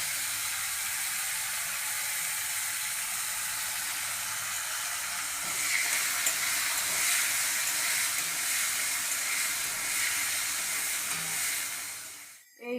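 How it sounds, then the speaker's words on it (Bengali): Chickpeas fry in hot oil with dry red chilli and bay leaf, a steady close sizzle that swells louder partway through and cuts off abruptly at the end. "শুকনো লঙ্কা দিলাম, দিয়ে ছোলাটা একটু ভেজে নেব"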